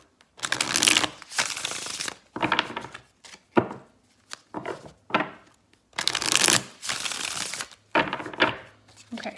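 Rider-Waite tarot cards being shuffled close up, a run of riffling, papery bursts in uneven clusters with short pauses between, loud and continuous over most of the stretch.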